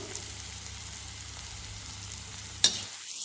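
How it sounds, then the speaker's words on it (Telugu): Onions roasting in a pan with curry leaves tossed in give a steady, close sizzle and frying hiss, with one sharp crackle burst near the end as the leaves hit the oil. "ఆనియన్స్ అయితే మంచిగా రోస్ట్ అయిపోయిందండి ఇందులోకి కరివేపాకు"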